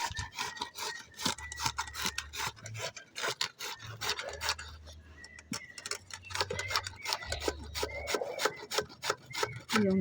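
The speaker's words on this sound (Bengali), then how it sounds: "দেখো আমি আমগুলোকে কিন্তু ঘষে নিচ্ছি।" Mangoes are rubbed or grated by hand in quick, rhythmic rasping strokes, close and fairly quiet, repeating steadily throughout with a faint low hum underneath.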